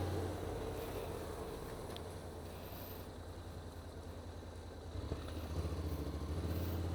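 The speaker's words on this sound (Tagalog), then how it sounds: "Ang motor lang tayo ngayon, hindi tayo nakasasakyan." Steady motorcycle engine drone while riding along a road toward San Pablo, Laguna, with constant wind rush over the microphone and a slight rise in engine note near the end.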